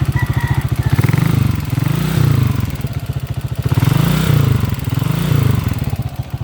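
A motorcycle engine with a rough timing gear runs loud and close, with a fast, steady, clattering tick throughout and several swelling rev-ups on top of the rhythmic pulse.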